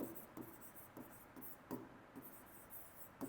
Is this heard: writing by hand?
yes